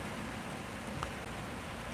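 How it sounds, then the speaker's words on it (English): Rain falling outside, a steady, soft hiss of drops with no distinct individual hits, faint and continuous without talk. "I hope y'all can hear the rain because it is raining."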